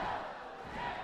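Wrestling crowd roars and cheers continuously through a ladder match, a dense, loud wall of voices from a large arena audience with no break.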